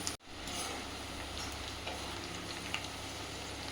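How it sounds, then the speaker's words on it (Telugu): Onions frying in a generous amount of oil for biryani give a steady, close hiss and crackle after a brief clatter at the start, with no voices over it. "బిర్యానీకి కావాల్సినంత ఆయిల్ తీసుకున్నాను తీసుకొని దీంట్లోనే ఫ్రైడ్ ఆనియన్ చేసి"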